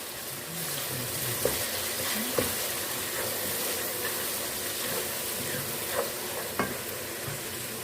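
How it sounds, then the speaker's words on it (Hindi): Tomatoes frying with red chili, turmeric and salt give a steady moderate sizzle, with a spoon occasionally knocking against the pan and no voices. "दो मिनट इसकी हम भुनाई करेंगे टमाटर और मसाले की अच्छे से"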